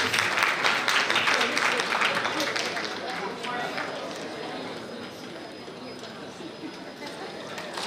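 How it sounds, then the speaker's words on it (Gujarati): An audience at a women's gathering and sarod festival claps to welcome a guest. The applause is loud at first, then tapers to a thinner patter mixed with background crowd noise. "જોરદાર તાળીઓના ગડગડાટથી આપણે"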